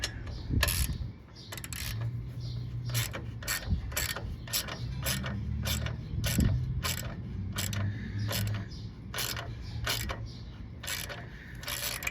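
A ratchet tightens the shifter support bracket clamp on a 1994 Honda GL1500 Goldwing, giving a run of quick, close, repeated clicking strokes in a steady rhythm with brief pauses between bursts.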